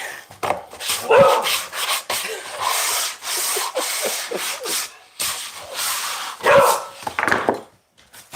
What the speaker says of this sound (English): They're dogs, eh?